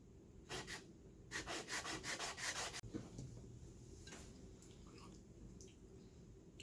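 Sandstone being sanded by hand with 400 grit abrasive, a quiet run of quick rhythmic rubbing strokes followed by softer, slower scrapes over low background hiss.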